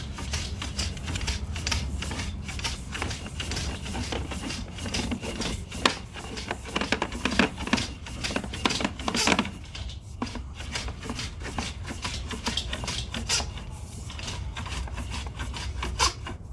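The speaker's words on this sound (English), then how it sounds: "it's scraping the heck out of my camera" Sewer inspection camera scraping against a hose band inside a cleanout, a long, dense run of rasping, rattling friction that stays fairly loud and continuous throughout.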